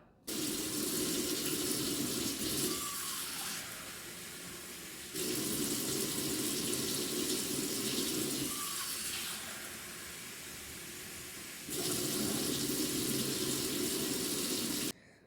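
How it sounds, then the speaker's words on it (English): Warm water pours from a kitchen tap into a bowl for sourdough bread dough, a loud steady gushing stream in three long bursts separated by short pauses. "And then 350 grams of water. I do it pretty warm."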